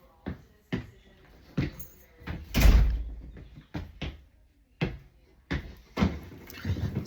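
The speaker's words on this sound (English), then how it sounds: "Let me shut this door." A door is pushed shut indoors with a sharp, loud thud around the midpoint, set among several other short knocks and bumps through the room; no one speaks.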